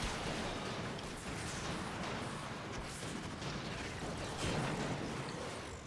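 Rapid weapon fire in the Warframe Archwing space combat mode, a steady, dense stream of faint mechanical shots and rumbling impacts with no speech.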